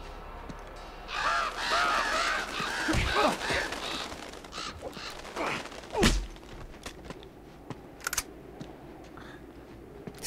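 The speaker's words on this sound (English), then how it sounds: "Stupid birds! Gave away my position." Crows in Uncharted 2: Among Thieves caw harshly and flap away in a burst of several calls, with a sharp thump near the middle and scattered clicks afterward.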